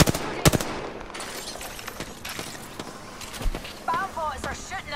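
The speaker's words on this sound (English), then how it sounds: "Bombards are shooting at me" Bombards fire on the player in a video game, with rapid sharp gunfire bursts and impacts rattling under a talking voice, plus electronic chirps toward the end.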